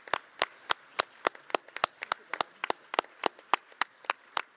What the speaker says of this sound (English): Please join me in a round of applause for all the contributions.